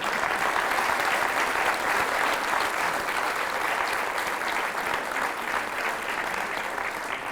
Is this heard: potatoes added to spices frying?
no